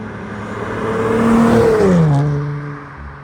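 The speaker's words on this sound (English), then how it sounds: "This is the first time I'm hearing my car outside, like me outside the car, and it sounds so dope." An Infiniti Q with 3-inch lower downpipes revs up from outside the car, its exhaust note rising to a loud peak and then falling back to a steady drone.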